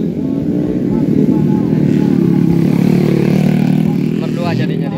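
A motorcycle engine sputters and revs roughly and continuously during a standard-class drag race final, loud and close, with people talking over it throughout.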